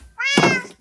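A cat in the Minecraft video game gives a single clear, loud meow lasting about half a second, heard alone with no talking.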